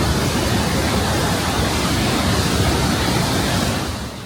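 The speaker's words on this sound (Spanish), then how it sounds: "Acabamos de llegar a las cascadas de Trummelbach en Lauterbrunnen" The Trümmelbach glacial waterfalls in Lauterbrunnen, Switzerland, give a loud, close, unbroken rushing roar of falling water that fades slightly at the end.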